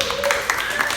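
A small café audience at a comedy set claps and laughs briefly, a dense burst of applause with a voice talking over it, close and fairly loud.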